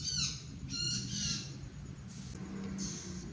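A ciblek gunung chick begging while being hand-fed soft food from a thin stick gives several short, high, squeaky calls in quick bursts, fairly faint over a low background hum.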